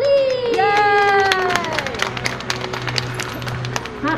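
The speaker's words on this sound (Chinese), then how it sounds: "掌声鼓励" An audience at a live Hakka music performance bursts into applause and cheering, a dense crackle of clapping with shouts rising over the crowd, following a brief tonal sweep at the start.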